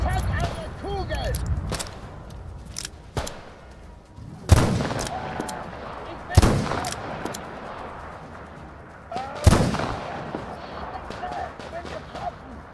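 Gunfire in the video game Metro Exodus: several sharp, loud shots spaced irregularly over a few seconds, separated by quieter game ambience, with no speech over them.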